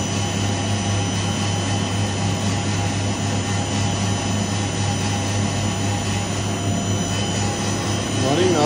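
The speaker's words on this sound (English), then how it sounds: "Running now, the high pressure pump has started" A high pressure pump starting up at a water treatment plant, a loud steady mechanical hum and whine with a constant low drone throughout, rising slightly at the end.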